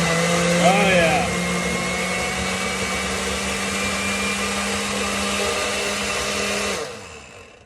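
A blender whirs steadily as it mixes a banana smoothie, the motor drone loud and continuous for about seven seconds before cutting off, with a voice briefly audible near the start.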